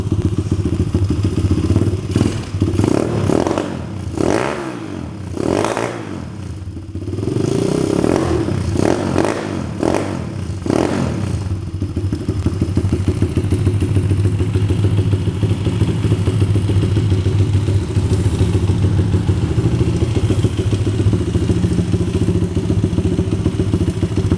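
A Honda CRF50 pit bike fitted with a Honda CR80 kick-start arm and a gummy carburetor gives a few heavy thumps as it is kicked over. The small engine then settles into a loud, steady, close idle that runs on for a long stretch with no talk.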